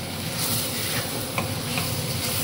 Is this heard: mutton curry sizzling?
yes